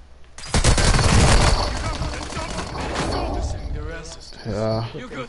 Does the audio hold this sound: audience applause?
no